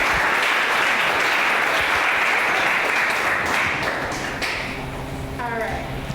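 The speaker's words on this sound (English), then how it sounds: "Can we get a round of applause for these ladies?" An audience at a supply chain panel event applauds the panelists, a full, sustained wash of clapping that gradually thins toward the end, with some talking in the room as it fades.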